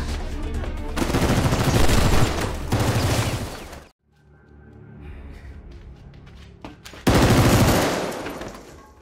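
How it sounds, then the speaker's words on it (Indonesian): Loud bursts of automatic gunfire ring out in a shootout scene from the 2018 Korean film Believer, with long sustained volleys, a brief quieter gap of scattered noises, then another heavy burst. "terjadilah baku tembak di antara mereka"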